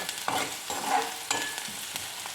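Onions cooking in a pan with salt for Maggi noodles, a soft continuous sizzle broken by several quick scraping stirs of a spatula, close and fairly quiet, with no voices.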